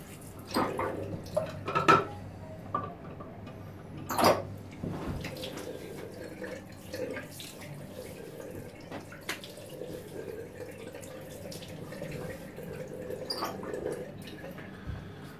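Water runs and drips steadily while a razor is rinsed off between shaving passes, with a few louder splashes and taps near the start and a low continuous hiss of flow throughout.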